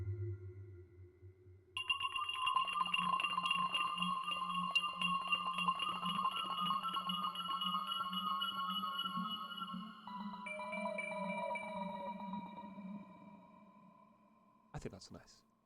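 Korg Minilogue XD synthesizer patch sustaining bright, tonal layered notes with a steady low pulsing bass line, shifting pitch partway through before fading, ending in a short sharp click.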